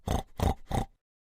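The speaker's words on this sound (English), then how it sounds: "Pig." A pig lets out three quick, close grunting oinks in an even rhythm, each short and throaty, then goes silent.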